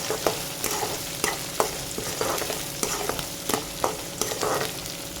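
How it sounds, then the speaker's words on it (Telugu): Onions fry in a pan with a constant sizzle, while a spoon stirs them in repeated scraping knocks every half second or so, close and without talk. "ఆనియన్ కాస్త కలర్ చేంజ్ అయ్యే వరకు ఫ్రై చేసుకోండి"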